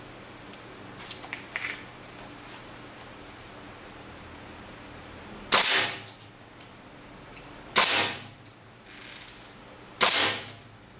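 A WE G39C green gas airsoft rifle fires three loud, sharp shots a couple of seconds apart, each a harsh hissing burst over a low room hiss.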